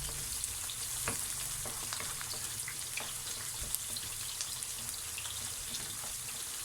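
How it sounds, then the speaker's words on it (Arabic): Eggplant fries in hot oil in a pan with a steady, close sizzle and scattered crackling pops throughout, with no voices over it. "والطاسه التانية انا حطيت فيها الباذنجان يتحمر معايا"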